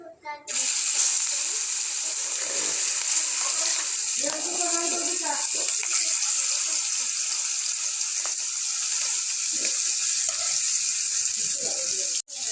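Fish frying in oil in a frying pan in a village kitchen, a steady hissing sizzle that runs continuously at moderate loudness, with faint voices and small clatters underneath.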